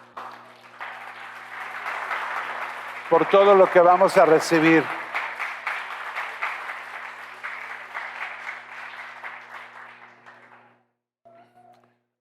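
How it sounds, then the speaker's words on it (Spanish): A church congregation gives a sustained round of applause that swells, holds for several seconds, then thins out and stops, with a voice speaking over the clapping at the start. "vamos a empezar dándole un aplauso a Dios"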